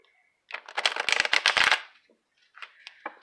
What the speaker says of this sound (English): we're going to add that back into the pile and shuffle it.